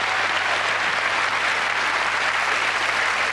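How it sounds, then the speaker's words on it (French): Steady, dense applause from a television studio audience greeting a magic act, loud and continuous throughout with no talk over it. "Jean Régil, vous allez l'applaudir bien fort dans ce numéro de magie."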